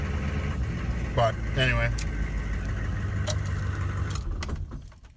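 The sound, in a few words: 1998 GMC K2500 diesel truck engine idling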